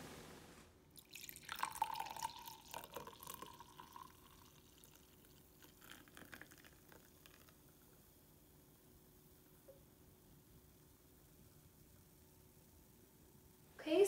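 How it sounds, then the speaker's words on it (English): Blended butter coffee is poured from a blender jug into a mug, a short liquid splash and trickle early on that tapers into faint drips, followed by near silence and a sharp knock at the end. "So now I'm just going to pour this into our mug and then we're going to taste it."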